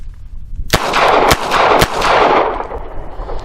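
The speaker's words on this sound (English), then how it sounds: "I'm going to put 5 rounds through this little Charter Arms" Three sharp, loud gunshots in quick succession from a Charter Arms .38 Special snub nose revolver, each crack followed by a short echoing tail, with no talking.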